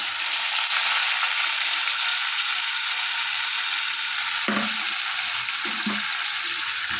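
Soaked khas rice tipped into a hot oiled frying pan and stirred, giving a steady loud sizzle throughout with a few brief scraping stirs near the end.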